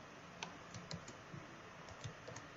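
Fingers tap on a computer keyboard in quiet, irregular clusters of soft clicks, close but faint, with no talking.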